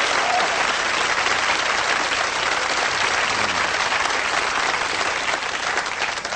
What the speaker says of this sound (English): Give yourselves a round of applause, all right?